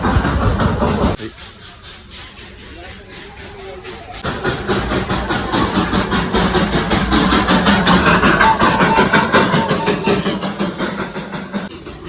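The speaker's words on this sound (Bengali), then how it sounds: "নিচে এবার স্টিম ইঞ্জিন আসে।" A Darjeeling steam toy train runs near Ghum station with steady loud steam hiss and rapid rhythmic chuffing that swells after a brief quieter stretch, close by, with people talking faintly underneath.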